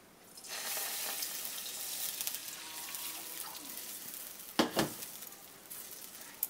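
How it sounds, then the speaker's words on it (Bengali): Liquid milk poured into lightly warmed ghee sets off a broad, steady hiss of sizzling that runs throughout, with a brief sharper burst near the end and no talking. "এখন আমি এর মধ্যে লিকুইড দুধটা দিয়ে দিচ্ছি।"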